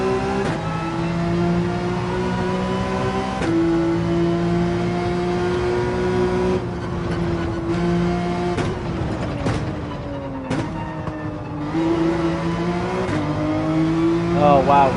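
A race car in Gran Turismo 7 on the Dragon Trail circuit, with a sustained engine drone that rises and falls as the throttle is worked, punctuated by quick gear shifts and a climbing rev near the end.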